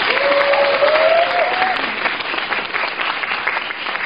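Broad, even applause from a studio audience welcoming a countertenor, continuous and fairly loud throughout, with a faint tonal voice or whistle sliding briefly near the start.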